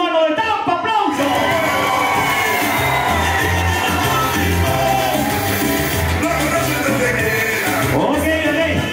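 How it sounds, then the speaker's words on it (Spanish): Audience at a Cuban comedy show in Tampa cheering and whooping loudly, a dense crowd roar with shouting voices that carries on for the whole stretch. "¡Aplausos!"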